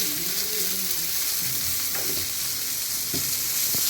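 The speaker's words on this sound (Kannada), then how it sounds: "ಇದನ್ನು ಚೆನ್ನಾಗಿ ಈ ಥರ ಫ್ರೈ ಮಾಡ್ಕೋಬೇಕು ಚೆನ್ನಾಗಿ" Tomatoes softening in a pan with a pinch of salt hiss with a continuous sizzle close up. Occasional spoon scrapes and clinks come through, and faint tonal background sounds sit low under the frying.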